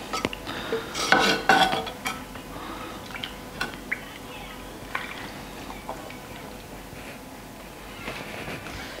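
Metal utensils scrape and clink against a pot as pork ribs with vegetables are lifted out, followed by quieter occasional taps and kitchen rustling.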